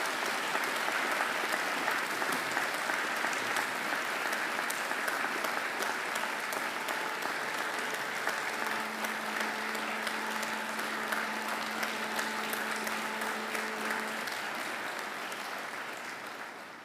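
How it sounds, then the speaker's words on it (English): A graduation ceremony audience of families and friends at Macquarie University breaks into sustained, dense applause that holds steady for about sixteen seconds, with a faint tonal hum underneath, before tapering slightly at the end. "And now I invite you to give them a mighty round of applause."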